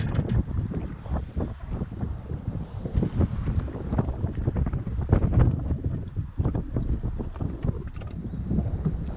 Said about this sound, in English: Sorry about the wind, it's horrible.